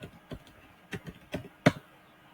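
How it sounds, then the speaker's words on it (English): Several soft, separate key taps on a computer keyboard, spaced unevenly with one sharper click near the end, quiet and close with no voices. "let's type organization"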